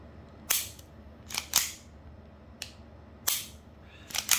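An unloaded Pit Viper airsoft pistol is dry-fired several times, each trigger break a sharp, close mechanical click, spaced roughly a second apart against a quiet background.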